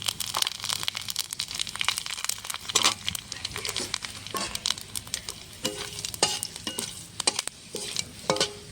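Dried red chilies and bay leaves temper in hot mustard oil, producing a dense, crackling sizzle with repeated sharp pops and scraping stirs throughout, close and continuous.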